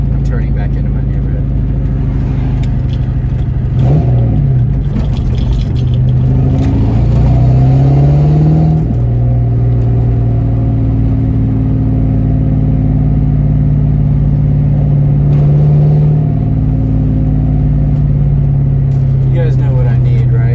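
A car drives and accelerates through a residential neighborhood, its engine droning and climbing in pitch through gear changes, heard from inside beneath someone talking.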